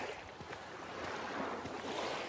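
Waves washing against the shore close by, a steady broadband wash with gusty wind noise on the microphone and small surges through the surf, no voices.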